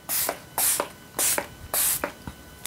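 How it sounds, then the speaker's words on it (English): Makeup setting spray with a glistening finish spritzed from a pump bottle in four quick hissing bursts, each followed by a faint click, close and clear with no talking. "I have this other setting spray that's like very glistening."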